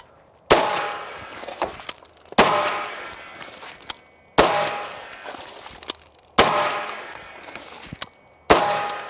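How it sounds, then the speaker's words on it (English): Live gunfire on a performance shooting drill, five loud, sharp reports at roughly two-second intervals, each with a ringing, decaying tail, heard without talk. "Let's shoot it live a few times and see how it goes."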